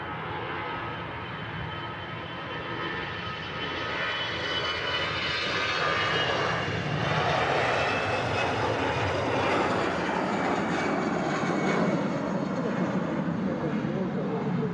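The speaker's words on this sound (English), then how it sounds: "Starting its roll. Another 320, and she will be Venice bound." An Airbus A320 bound for Venice begins its takeoff roll at Manchester Airport, a steady, loud jet engine roar building gradually and holding strong throughout, heard from a spotting position at some distance.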